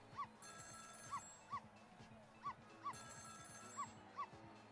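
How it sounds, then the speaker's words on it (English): Telephone rings repeatedly from next door in the video game Ghost Trick, a regular pattern of bright electronic trills over a steady musical background, with a dog barking low in the mix. "It's the sound of a telephone ringing,"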